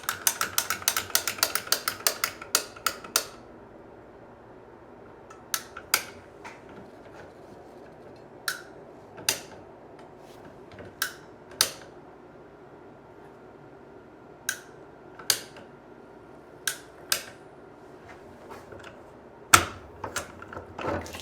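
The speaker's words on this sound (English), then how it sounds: "I have a feeling I'm still gonna get wet cutting into this pipe" A ratcheting cutter bites into a water pipe during a renovation of a 150-year-old farmhouse, giving a quick burst of ratchet clicks followed by separate, evenly spaced sharp clicks, close and clear against a quiet room.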